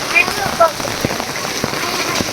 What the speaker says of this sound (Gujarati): તો વરસાદે ભાઈ હેલી માંડી છે ને હવે કઈ બંધ થાય કે નક્કી નથી